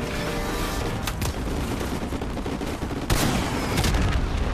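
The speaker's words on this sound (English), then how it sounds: "Yeah, blew him up with the RPG." Rapid gunfire and blasts in Call of Duty 4: Modern Warfare Remastered, a dense crackling fusillade with sharp bursts and a heavy explosion near the end, loud and continuous, no speech.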